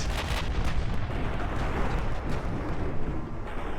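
Naval gunfire during a warship battle in the game Ultimate Admiral Dreadnoughts, heard as a loud, continuous wall of deep booming and rumbling that barely lets up, with no talking.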